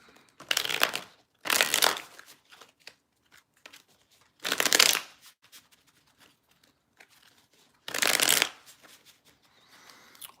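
Tarot cards are shuffled nearby in four distinct bursts of crisp riffling, separated by quiet gaps. The clip ends with faint handling noise.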